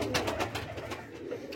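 A Ferozpuri pigeon of the Jaldar breed coos nearby, giving a run of soft repeated throaty calls in a quiet setting.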